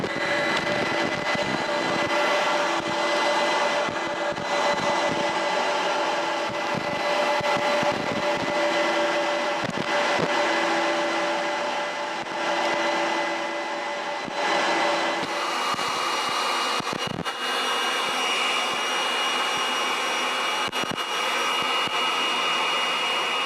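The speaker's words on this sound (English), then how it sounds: "Once the unit is primed, turn on the vacuum motors, turn on the pump," A Phoenix Hydro X VacPac extractor runs with its vacuum motors and pump on, a loud, steady whining roar with a sustained tonal hum, plus brief clunks and a shift in pitch partway through, and no talking.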